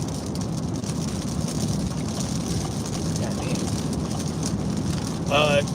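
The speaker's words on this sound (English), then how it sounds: "It's raining unexpectedly" Unexpected rain falls steadily outdoors, a dense even hiss that continues throughout with no pauses and ends with a brief louder noise.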